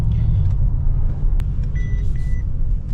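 Mercedes G63 AMG driving through city traffic in India, a steady low engine and road rumble heard from inside, with a few faint beeps and passing traffic sounds over it.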